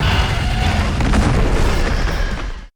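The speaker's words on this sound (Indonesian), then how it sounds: "Sang naga roboh ke tanah dengan dentuman berat." A heavy, booming thud of a dragon crashing to the ground, used as a fantasy story effect, loud and rumbling with a sustained roar that cuts off abruptly.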